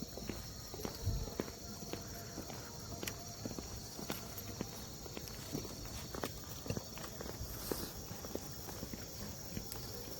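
Footsteps crunch steadily along the gravel beside railway tracks near a station at night, with a brisk walking rhythm set against faint background hiss.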